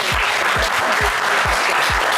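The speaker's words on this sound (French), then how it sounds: "on vous applaudit très très fort" A television game-show studio audience claps loudly and continuously, while a steady low thump beats under the applause about twice a second, like music pulsing beneath it.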